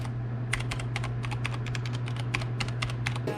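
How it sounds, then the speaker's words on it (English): Fingers type on a clicky Corsair Strafe RGB mechanical keyboard, a close, crisp run of rapid key clicks in an uneven rhythm over a steady low electrical hum. "My keyboard's super clicky."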